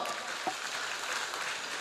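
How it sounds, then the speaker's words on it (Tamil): An audience at a speech event claps together in a steady, fairly loud round of applause, a continuous patter of many hands filling the short moment. "அம்மா அவர்களுக்கு ஒரு பெரிய கைத்தட்டல் கொடுத்துடலாம்"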